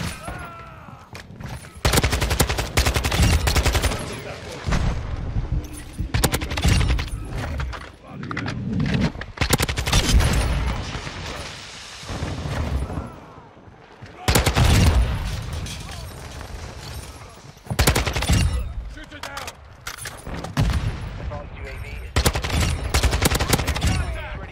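Kastov-74u rifle in Modern Warfare 2 fires loud, close automatic bursts, long rattling strings of shots separated by short gaps, with occasional booms and faint talk underneath.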